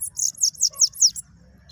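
A sibite songbird sings a rapid series of about six high, sweeping chirps in an even rhythm, clear and close, followed by a faint low murmur.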